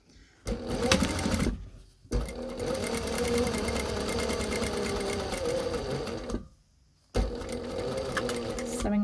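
A sewing machine stitches two layers of fabric together for a face covering with a filter pocket, running loudly and steadily up close in long continuous bursts broken by two short stops.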